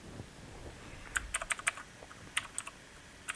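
Someone types a sudo apt update command on a computer keyboard while setting up a Raspberry Pi 5: a quiet, close run of irregular light key clicks in small clusters, with no talking.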